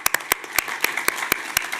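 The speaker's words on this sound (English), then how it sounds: "let us clap on that" Audience at a city commission meeting clapping in scattered, sharp individual claps, a short, sparse burst of applause close to the microphone.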